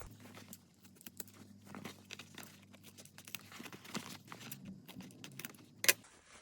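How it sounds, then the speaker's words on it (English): Scissors make faint, scattered snips through excess fabric at the corners of a zipped pouch bag, with soft rustling of the cloth between cuts and one sharper metallic click near the end. "I'm going to cut off this excess fabric here at the corner of these, because it's just going to add unnecessary bulk in my bag."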